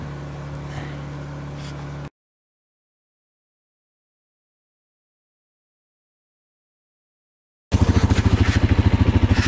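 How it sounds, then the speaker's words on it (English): A chainsaw with a 24-inch bar and 3/8 pitch chain runs loud and close, heard as a steady buzzing engine drone at first and then a hard, pulsing roar after a long silent gap. "that thing cuts real nice. The saw seems perfect. It's not bogging."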